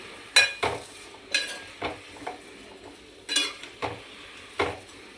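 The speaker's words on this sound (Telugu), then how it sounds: "ఒక్కసారి కలబెట్టేసుకొని" A spoon scrapes and stirs tomatoes and green chilies in a pan for a mint roti chutney, making about eight distinct scraping strokes in an uneven rhythm over a soft background. The sound is close and quiet, with no voices.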